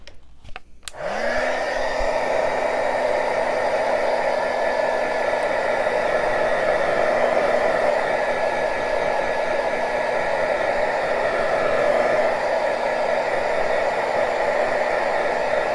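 A hair dryer switches on after a brief click and then runs in a loud, steady whoosh, blowing close up to dry paint on handmade journal tags.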